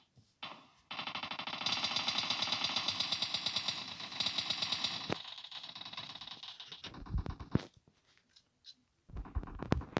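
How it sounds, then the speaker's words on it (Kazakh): Rapid bursts of automatic gunfire in PUBG Mobile rattle continuously for several seconds, then break into scattered single shots and thumps, with no talking. "ана жақта атысып жатыр көбісі"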